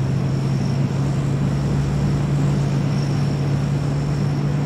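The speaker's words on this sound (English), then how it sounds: "What is that plane you're doing?" Steady, loud drone of an airplane flying overhead in the DayZ video game, a constant low engine hum with an unbroken rumble and no voices.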